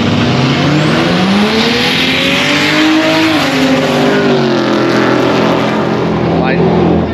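A Holden Barra-engined drag car with several hundred horsepower at a Lakeside no-prep drag meet, a loud engine roar rising in pitch as it launches and pulls away, steady and continuous with crowd voices underneath.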